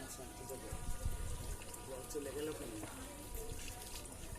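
Water splashes and pours steadily while a child is bathed at home with shampoo, a constant wash of running water under people talking.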